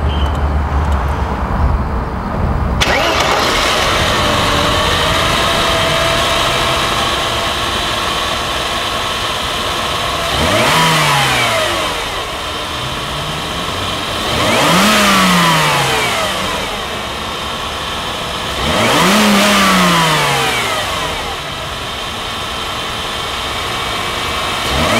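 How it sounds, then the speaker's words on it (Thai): A Mercedes-Benz S280 W140 sedan engine with four-speed automatic starts and idles, then revs up sharply three times with falling pitch after each rev, close and loud. "มาฟังเสียงเครื่องยนต์กัน"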